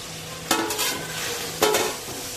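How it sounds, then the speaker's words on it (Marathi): Masala crab being stirred and sautéed in oil in a pan, with a steady low sizzle broken by two sharp scraping stir bursts, close and without speech. "आता परत एकदा परतून घेऊया। तेल सुटेपर्यंत परतायचं आहे।"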